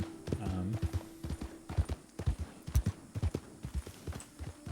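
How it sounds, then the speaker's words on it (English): Horse hooves clip-clop on a town street in the Western roleplay game WildRP, a steady run of hoofbeats with some background voices and game ambience. "Well, there's a horse randomly in the middle of town."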